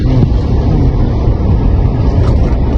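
A car cruising at about 60 on a road in Saudi Arabia, giving a steady, loud broadband rumble of engine, tyres and wind that holds evenly throughout with no talk.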